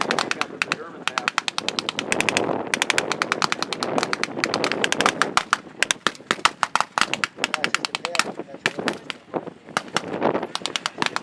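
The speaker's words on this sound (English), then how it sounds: "That 37 millimeter cannon that the Stewart's firing on the north side is bouncing off the that man's tank." Rapid bursts of gunfire and tank cannon fire at a battle reenactment crack repeatedly in fast, dense volleys, with loud sharp reports dominating throughout and no clear pauses.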